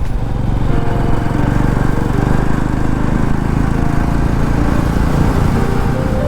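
A Jawa motorcycle engine drones steadily and loudly during a long highway ride, with constant rumble and wind noise and no breaks.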